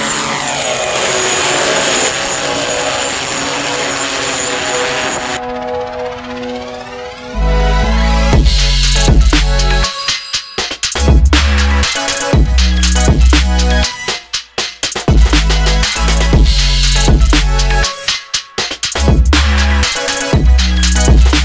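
A Saito FG-61TS 60cc four-stroke petrol engine turning a 22x10 propeller on a Mugin 3600 VTOL drone, a steady buzzing drone of engine and prop that swells into louder, pulsing running with dips, close and continuous.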